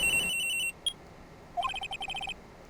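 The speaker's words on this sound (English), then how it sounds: "At around 10:30, I received a call on my cell phone." A cell phone rings in the Phoenix Wright: Trials and Tribulations video game as a bright electronic trill. A burst of beeps is followed by a single tone and then a quick rhythmic series of chirps, fairly faint, with no voices.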